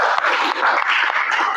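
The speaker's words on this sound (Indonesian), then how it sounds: "Ya, tetap semangat, tepuk tangan yang meriah." Classroom applause from a group of students, a short, steady burst of many hands clapping close by for the whole moment.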